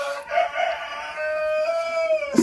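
A rooster crows once in a henhouse among laying hens, a long drawn-out call held for about two seconds, close and loud, with a brief cluck just before and after.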